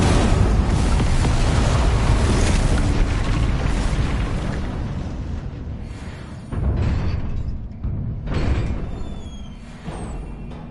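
Incendio fire spell blasts in Hogwarts Legacy: a loud, roaring explosive whoosh that fades over several seconds, followed by two more sharp bursts of flame with rumbling tails, close and powerful.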